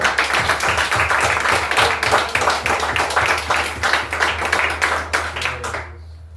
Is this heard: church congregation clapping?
yes